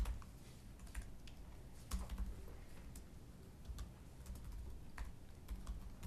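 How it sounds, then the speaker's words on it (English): Quick, steady clicking of a computer keyboard during a finance committee meeting, faint and continuous under low room noise with no talking. "I just meant me typing"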